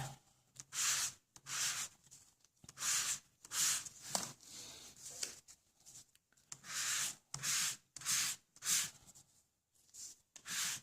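Close, rhythmic sanding strokes rasp across glossy white cardstock in short bursts with brief pauses between, fairly quiet and without any talking.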